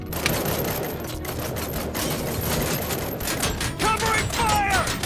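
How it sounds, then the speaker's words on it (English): Sustained gunfire in the RoboCop: Rogue City video game, a dense, continuous crackle of rapid shots with voices calling out over it near the end. "Covering fire!"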